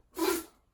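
A single short, breathy sneeze bursts out close up, quick and sharp, then fades into quiet.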